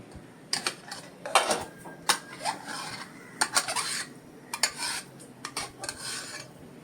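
A cooked taro leaf mixture of dal and fenugreek seeds being scraped and tipped into a kadai, uneven bursts of rasping metal scrapes and clinks with short pauses between, close by.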